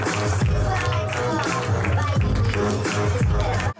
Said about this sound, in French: faites un ton d'applaudissement pour mon pote Matt